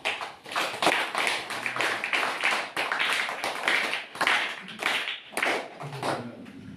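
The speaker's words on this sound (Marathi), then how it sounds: "आणि सर्वांनी टाळ्या वाजवून स्वागत करूया." Audience applause welcoming guests at a school function, a steady crowd of clapping hands with uneven swells and brief dips, fairly close and continuing throughout without speech.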